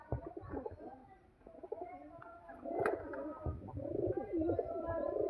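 A teddy pigeon gives low, rolling coos that build and continue near the end, close and steady over a soft background murmur.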